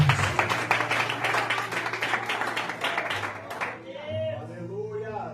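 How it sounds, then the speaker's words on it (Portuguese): A church congregation claps for Jesus during a sermon, a lively, rhythmic round of many hands that fades out after a few seconds, followed by someone speaking, with a low sustained tone underneath throughout. "Mais forte as palmas para Jesus."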